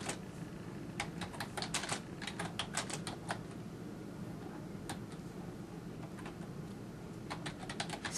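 Quiet computer keyboard typing while entering a payee address into an online tennis tournament sanction form, with clusters of light keystrokes in short bursts and pauses over a low steady background hum.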